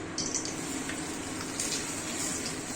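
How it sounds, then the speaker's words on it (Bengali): A paratha fries in a pan with a steady, moderate sizzle and light bubbling crackle, fairly close and even throughout, with no talking. "বেশি করে ভাজবো না হালকা ভাজবো?"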